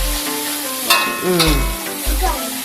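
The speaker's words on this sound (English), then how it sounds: "Then stir fry also the udang kering." Dried shrimp and garlic stir-fried in a home kitchen pan, a steady sizzle with a few scraping stirs of the spatula and brief musical tones over it, fairly close and moderately loud.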